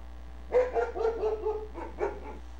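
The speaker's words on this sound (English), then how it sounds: "The barking is definitely the dog" A wolf-dog hybrid barks and yips in a quick series of high, whiny barks, fairly close, with a short pause before a couple more.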